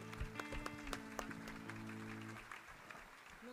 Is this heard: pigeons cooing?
no